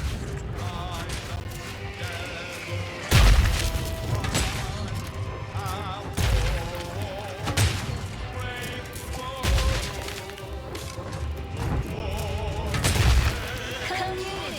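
Artillery barrage in The Outer Worlds 2 sets off heavy booming impacts every few seconds over a dense bed of battle noise and music, with voices talking throughout.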